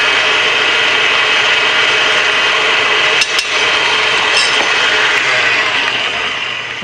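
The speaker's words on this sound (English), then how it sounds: "It really helps to have a good, powerful mixer like this when you are making large batches of cookies." Electric stand mixer beating a large batch of cookie dough, giving a loud, steady mechanical whir and grinding with faint clicks, close up and with no talking.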